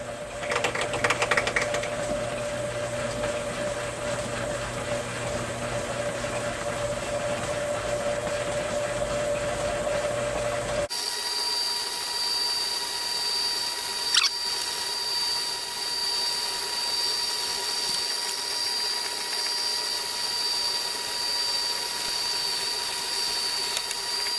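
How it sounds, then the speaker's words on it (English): A steady, high-pitched whine from a quarter-inch drill runs continuously, changing pitch partway through as the bit bites into metal of a Case D tractor front end, with a brief sharp click midway. "Go in here with a 1/4 inch drill."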